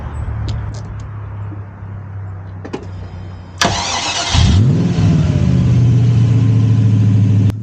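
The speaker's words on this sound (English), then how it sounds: "this car has a V8 under the bonnet" A Ginetta G33's 3.9-litre Rover V8 idles quietly, then fires up with a sharp start and settles into a loud, steady rumble close by, with a brief rev.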